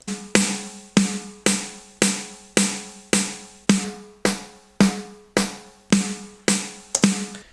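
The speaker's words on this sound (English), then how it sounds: "a good amount of EQ on it to give it that crack," A snare drum struck in a steady beat, about a dozen sharp, cracking hits with bright, ringing tails, played alone and close.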